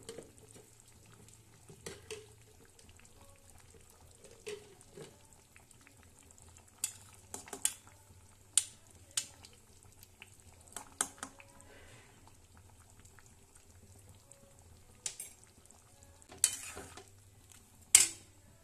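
Soybean curry being stirred in a pan with ghee and garam masala, a quiet low sizzle under scattered sharp scrapes and clinks of a spoon against the pan, louder near the end.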